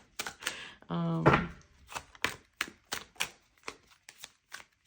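Tarot cards are shuffled by hand in a string of quick, crisp riffling snaps and taps, spaced unevenly, with a brief voice heard early on.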